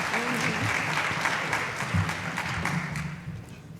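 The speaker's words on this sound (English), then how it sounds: "Please give them a warm round of applause." An audience at a thriller and suspense book festival claps warmly for the authors, a steady wash of applause with a few voices murmuring underneath as it gradually fades.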